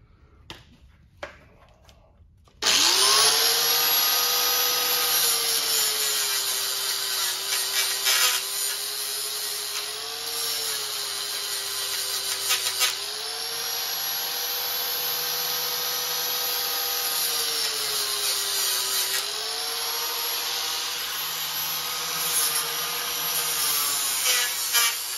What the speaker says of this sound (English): Got to grind a little bit in there.